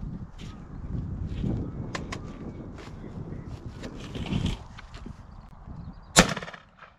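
A single sharp shotgun blast from a Beretta A400 Xtreme Plus or Winchester SX4 rings out while pigeon shooting over a bean field, standing out loud against steady outdoor wind and ambient noise.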